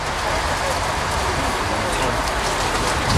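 Rain falls during an amateur rugby match, a dense steady hiss of drops and wind noise filling the whole stretch evenly, with a commentator talking over it.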